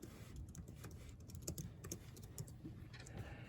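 Someone types a song title on a computer keyboard. Soft, irregular key clicks patter steadily at low volume over a constant room hum, with no voices.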